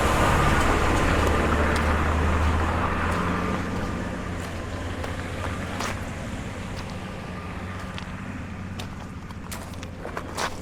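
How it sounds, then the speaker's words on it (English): A big lorry drives past on a road near the Il Tracciolino hiking trail, its heavy engine rumble loud and close at first, then receding into the distance while nearby footsteps crunch along. "Oh shit, there's a big lorry coming."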